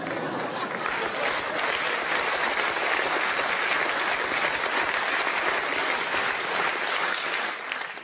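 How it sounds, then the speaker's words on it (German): A cabaret audience breaks into dense, loud applause that holds at full strength for eight seconds, a thick wash of many clapping hands and some crowd noise, then starts to fade at the end. "Applaus"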